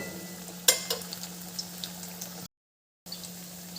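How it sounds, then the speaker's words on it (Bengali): Pointed gourd (potol) frying in a pan makes a faint, soft sizzle with a sharp crackle early on and scattered small pops, broken by a brief total silence before the quiet frying resumes. "এবার একটু ভাজতে হবে তারপরে উল্টে দেব"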